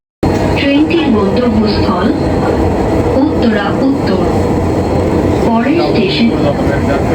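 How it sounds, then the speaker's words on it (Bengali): A Dhaka Metro Rail train pulls out of Motijheel station, its loud, steady motor hum and rolling rumble close by, with rising electric whines repeating through the ride and a voice speaking now and then over it. "আমার ট্রেন ছেড়ে দিছে মতিঝিল থেকে ফ্রাম গেটের উদ্দেশ্যে"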